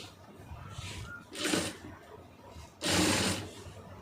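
A sewing machine stitches a blouse lining in two short bursts of whirring, close and fairly loud, separated by quieter pauses with a soft background hum.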